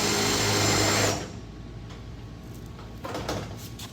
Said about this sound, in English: So first thing we're gonna do is try to drill these holes back here in the back.